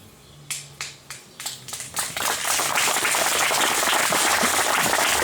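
Audience applause at a 60th-anniversary church gathering: a few isolated claps at first, quickly building into full, steady clapping from the whole crowd that holds loud and dense to the end.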